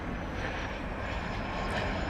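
A Boeing 787 jet on a taxiway at Los Angeles airport produces a steady, broad engine roar that holds evenly throughout, loud and continuous with no voices.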